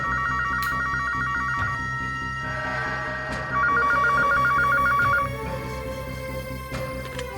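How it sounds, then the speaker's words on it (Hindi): A telephone rings on an outgoing call, two bursts of a warbling electronic ring separated by a pause, clear and fairly close over a quiet background hum. "फोन लगा के देखता हूं, घर पे होगा तो फोन जरूर उठाएगा।"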